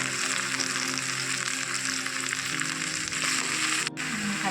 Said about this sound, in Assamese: আৰু এতিয়া এইখিনি পিঁয়াজখিনি ভালদৰে মই অলপ ভাজি ল'ম